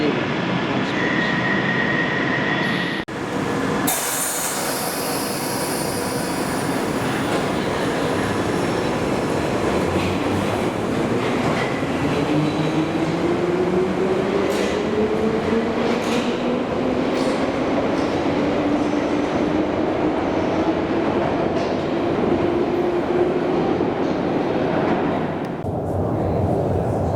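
Piccadilly Line underground train noise at Manor House station, a steady loud rumble with a rising and falling whine and faint clatter throughout, heard continuously from the platform.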